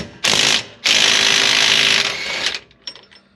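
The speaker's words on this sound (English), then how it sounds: "So we'll go ahead and get these bolts out," A ratchet loosens the nuts on the differential yoke of a Jeep Gladiator, with a loud close burst of rapid clicking, a short pause, then a longer sustained run of clicks that tapers off.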